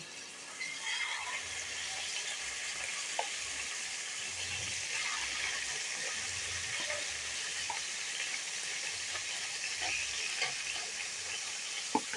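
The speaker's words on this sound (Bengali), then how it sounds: "এবার চিকেনটা একটু ভেজে নেব।" Chicken pieces shallow-frying in a pan for a vegetable chicken curry: a steady, close sizzle runs throughout, with occasional light clinks and scrapes of stirring.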